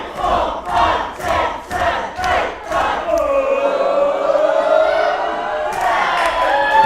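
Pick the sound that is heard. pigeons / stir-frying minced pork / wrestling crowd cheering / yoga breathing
wrestling crowd cheering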